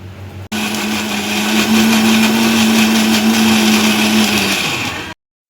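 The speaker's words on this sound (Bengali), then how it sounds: "এখন আমি এটা মিক্সি করবো" A mixer grinder runs steadily for about four and a half seconds, loud and continuous with a whirring hum, blending a marinade paste of turmeric, salt, cumin, coriander powder, chili, ginger and onion for biryani meat, then cuts off abruptly.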